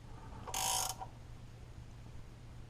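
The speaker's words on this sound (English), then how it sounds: "Take your wrench, hook it on there, and tighten her down" A wrench tightening the oil drain bolt on a Toyota 22RE engine makes one short, loud metallic ratcheting burst near the start, then only quiet background.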